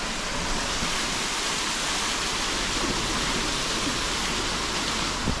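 A small waterfall deep in the Brazilian jungle pours in a steady, dense rush of falling water, loud and unbroken from start to finish, with no voices over it.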